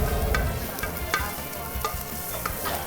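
Beef fat sizzles and crackles steadily in a hot pan, with occasional scraping and stirring clicks close by.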